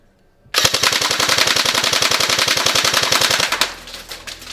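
ASG CZ Scorpion Evo 3 A1 B.E.T airsoft carbine firing a full-auto burst, a loud rapid even rattle of shots for about three seconds that stops abruptly, then the motor whirs briefly.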